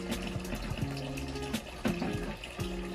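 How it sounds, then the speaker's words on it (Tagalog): Water draining from a fish tub, a close gurgling flow with a pulsing, bubbling rhythm that repeats every second or so, moderately loud throughout. "Ngayon i-drain ko lang itong tubig na may talisay."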